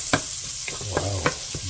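Onions sauté in a pan for creamy chicken macaroni soup, a steady sizzle broken by a few sharp scrapes and taps of a stirring utensil, with no voices.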